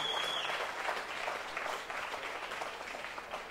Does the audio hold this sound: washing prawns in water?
no